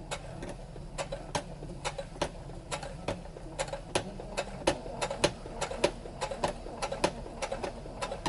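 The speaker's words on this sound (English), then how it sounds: "So we're just stitching in the shadow line here." A sewing machine stitching the shadow line along the cording on a costume jacket, giving steady evenly spaced clicks at a moderate pace, close and fairly quiet, with no talking.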